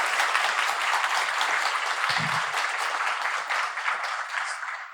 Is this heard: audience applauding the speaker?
yes